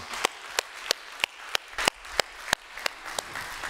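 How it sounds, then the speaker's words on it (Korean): Rhythmic clapping in a church congregation at a 40th-anniversary thanksgiving service, about three sharp claps per second in an even beat, fairly close and otherwise quiet. "하나님께 힘찬 영광의 박수를 올려드리죠"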